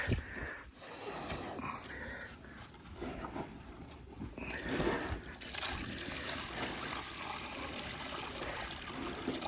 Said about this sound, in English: let me rinse that out for you, buddy